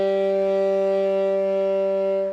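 Alto saxophone holding a low E: a single steady, reedy tone sustained for about two seconds, close and clear, with no speech.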